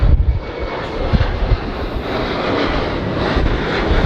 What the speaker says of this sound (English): Right when they spool up, it has a really cool engine sound.